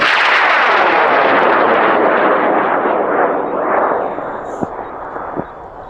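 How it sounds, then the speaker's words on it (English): A high power rocket launches with a loud, close, continuous roaring rush of motor exhaust that fades slowly as it climbs away, and a few sharp crackles come near the end. "We're going to put up Chase's rocket in 5, 4, 3, 2"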